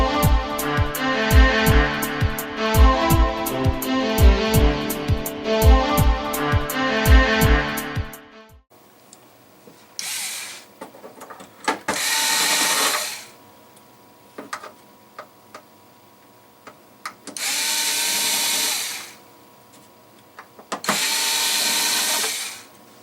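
Screws are backed out of an RCA 32-inch TV/DVD combo during disassembly: a rapid rattling burst from a power driver first, then several separate whirring runs of a few seconds each, close by.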